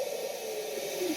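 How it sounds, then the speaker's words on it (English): Drum Buddy sound generator putting out pure white noise with its phasing slowed, a steady hiss with a slowly sweeping band drifting through it, fairly loud and continuous with no talking. "Let's slow this down so we just got pure white noise"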